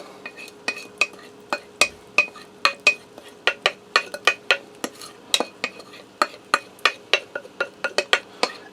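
A spoon scrapes and clinks rhythmically against a bowl as garlic butter is stirred over potatoes, about two dozen sharp, close taps in a quick, steady beat with no voices.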